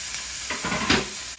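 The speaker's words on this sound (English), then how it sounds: "I'm going to cook in the egg" Egg frying in a hot pan for fried rice, a steady close sizzle with a short stirring scrape near the middle and a brief clatter at the end.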